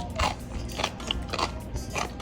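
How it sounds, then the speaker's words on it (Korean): Crunchy dried radish strips (mumallaengi), served as a Korean side dish, are bitten and chewed up close, with a string of crisp, crackly crunches in a steady chewing rhythm and no talking. "아삭아삭 소리가 기분 좋아서 자꾸 주워 먹게 되는 무말랭입니다"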